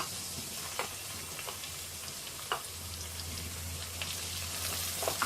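Chopped green beans fry in a pan for egg fried rice, giving a close, even sizzle with a few sharp scraping clicks from stirring, quiet and without speech.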